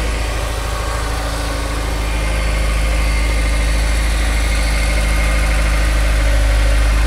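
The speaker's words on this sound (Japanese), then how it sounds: "アイドリングもね、結構落ち着いているので特段違和感はないかなといった感じですかね。" A Honda S2000 AP1 Type V with an aftermarket exhaust idles steadily and close by, a smooth, even low rumble with no revving, holding the same level throughout.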